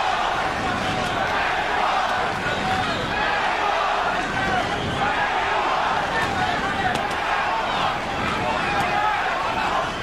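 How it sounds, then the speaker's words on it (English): A boxing arena crowd chants "Mexico" in support of Julio César Chávez during his fight with Meldrick Taylor, a continuous loud roar of rhythmic chanting and cheering with ringside commentary over it. "Crowd chanting Mexico, Mexico, trying to lift Chávez up"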